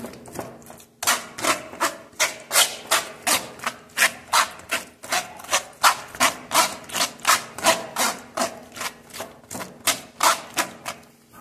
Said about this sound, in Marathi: गर असं चमच्याने प्रेस करायचा